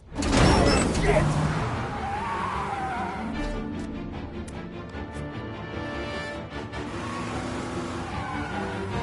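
A taxi car in the Mafia video game drives close by, its engine humming steadily with a loud burst near the start, while mechanical clunks and voices sound over it.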